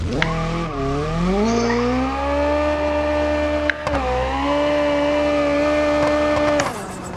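A car spins its rear tires in BeamNG.drive, a sustained high-pitched squeal over a droning engine that rises in pitch, breaks off briefly midway, then picks up again before stopping.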